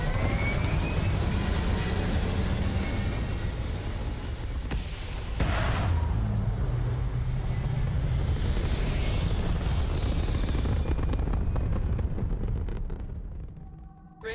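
A spaceship lifts off in the video game Starfield with a loud, sustained rumbling engine roar and whooshing thrust that surges midway, then fades toward the end.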